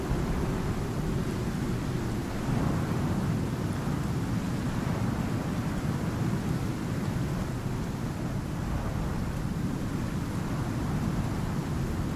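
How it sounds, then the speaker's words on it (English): Steady broadband roar of rain and wind during a long thunderstorm in the survival video game Icarus, heavy low rumble sustained throughout with no distinct thunderclaps standing out, no talking. "This is a really long thunderstorm."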